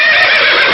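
A horse neighing, one loud, sustained whinny sound effect filling the brief moment, bright and close.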